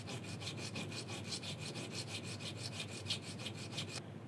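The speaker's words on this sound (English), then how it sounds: "All you should be doing is moving it back and forth and letting the sandpaper do the cutting for you." Sandpaper rubbed back and forth by hand over a machined T-800 endoskeleton arm part, giving a steady run of about twenty quick, even rasping strokes, close and alone, ending abruptly.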